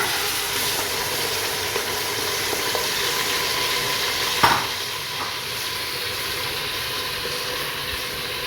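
Half a cup of hot oil sizzles in a steady, even hiss as marinated mutton cooks over a flame, with one brief clank of a spoon against the pot midway and no voices.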